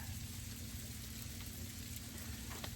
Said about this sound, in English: freezing rain or sleet. I think it might be sleet because you can hear it